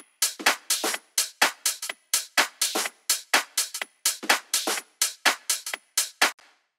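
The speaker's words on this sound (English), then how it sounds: "And here I have a loop, which is a top loop." A top loop drum sample of bright, steady percussion hits in a quick repeating pattern, crisp cymbal and hat-like strokes over light body, heard alone at close range.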